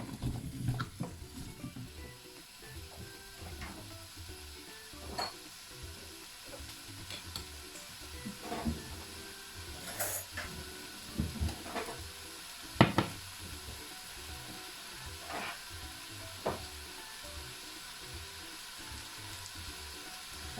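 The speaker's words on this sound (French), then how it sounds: "Je vais remélanger un petit peu pour que le butternut prenne le goût de l'oignon et l'huile." Butternut squash and carrots fry in olive oil inside a Cookeo cooker, soft sizzling running throughout under repeated scraping strokes of a stirring utensil, with a few sharper knocks against the pot.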